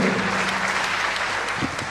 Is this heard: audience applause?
yes